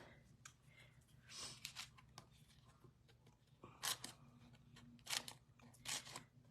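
Scissors cutting 6x6 pattern paper, several quiet, crisp snips and rustles spaced irregularly over a few seconds, close by with no talking.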